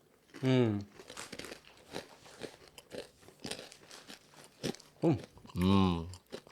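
Crunchy wasabi peas being chewed right at a podcast microphone, giving close, crisp crunches and bites between short bursts of voices.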